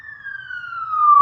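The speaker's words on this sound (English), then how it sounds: "Yeah, it's a fire engine." A fire engine siren passes on a city street, a single steady wail sliding slowly downward in pitch and growing louder toward the end, heard alone without talk.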